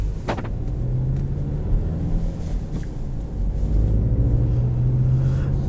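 A 2021 Volkswagen Golf GTI SE with a manual gearbox driving along, heard from inside as a steady low engine and road rumble that swells slightly toward the end.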